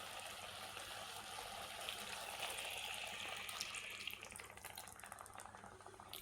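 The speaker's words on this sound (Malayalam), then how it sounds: "ഇതിലേക്ക് വേവാൻ ആവശ്യത്തിന് കുറച്ച് നമുക്കൊന്ന് വെള്ളം ഒഴിച്ച് കൊടുക്കാം." Water pours steadily into a pan of Kerala-style crab roast masala, a continuous splashing trickle that runs close and fairly loud, easing off slightly near the end.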